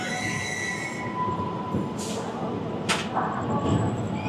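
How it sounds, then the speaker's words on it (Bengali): A train pulls into Varanasi (Benares) Junction station, its steel wheels grinding with a steady rumble and two sharp high squeals, carriage noise continuous throughout. "আমাদের ট্রেন প্রবেশ করছে"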